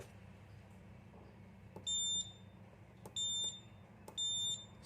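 A small electronic buzzer, triggered by button presses through an RF 433 MHz transmitter and receiver module, sounds three short, shrill beeps at fairly even intervals over a quiet background hum, with faint clicks just before each beep.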